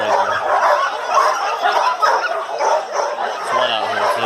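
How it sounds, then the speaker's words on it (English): Sled dogs bark and yip in a busy, overlapping chorus at a dog-sledding camp near Skagway, Alaska, on a very windy day, with steady wind noise and voices running underneath. "They're just barking."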